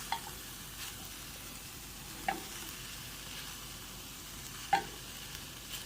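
Tofu scramble sizzling in a pan, a soft steady hiss with a few sharp clicks of a utensil stirring and tapping the pan, close by and with no voices.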